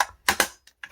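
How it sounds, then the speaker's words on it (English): Paper punch clacking through thick handmade inked cardstock, two sharp close punches followed by two lighter clicks, with nothing else heard. "Sometimes you have to re-punch a second time if your punch isn't that sharp"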